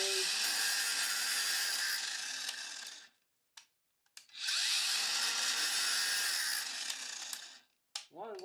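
An angle grinder cuts through network cabling in two long, loud, close bursts, each a harsh, bright whine lasting about three seconds, separated by a brief near-silent pause and ending in a short spin-down.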